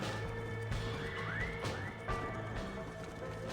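Horse neighing and whinnying with hoofbeats in Red Dead Redemption: Undead Nightmare, a rising whinny near the middle over a steady game soundscape of low rumble and background effects.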